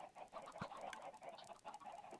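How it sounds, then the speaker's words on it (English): Chickens in a Minecraft chicken farm cluck in quick, overlapping bursts, a faint busy chatter of several birds with no other sounds. "you can see we already have quite a bit of chickens in there ready to be processed"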